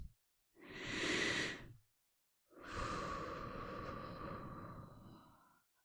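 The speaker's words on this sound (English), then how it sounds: "deep breath" Slow, deep breath taken in a calm, quiet setting: a long soft inhale, a brief pause, then a longer steady exhale, close and alone with no talking.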